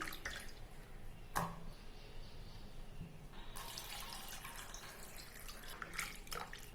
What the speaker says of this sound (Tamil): கருவாடை நல்லா நம்ம இந்த மாதிரி பிசைஞ்ச போல கழுவி எடுத்துக்கணும்.